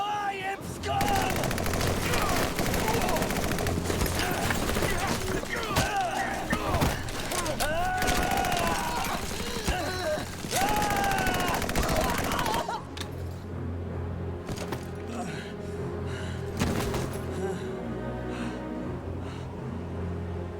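Gunfire in the video game Valkyria Chronicles 4 rattles continuously in dense, loud bursts, thinning toward the end, with background game sounds and some talk mixed in.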